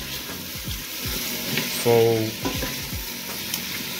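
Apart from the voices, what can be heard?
stirring a pot of sizzling food in hot oil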